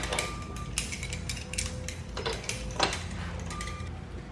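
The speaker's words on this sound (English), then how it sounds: "And then we're just going to crank her tight and hope for the best here." A ratchet tightens the rear wheel on a Razor MX650 motorbike, giving close, irregular metallic clicks and clanks of the tool against the axle hardware, with no voices.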